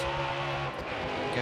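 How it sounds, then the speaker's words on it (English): Race car engine in NASCAR Heat 4 bouncing off the rev limiter, a steady buzzing drone held close and loud through the whole moment, with a slight dip midway. "It's a rev limiter."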